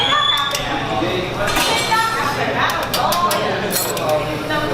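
A whisk clinks quickly against a metal bowl at a busy food stall, with repeated bright scraping and chinking strokes over a loud, crowded background of clatter and voices.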